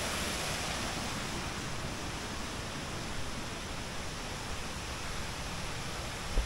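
A broad, constant roar of rushing water from Kuang Si waterfall close by, steady and unbroken throughout.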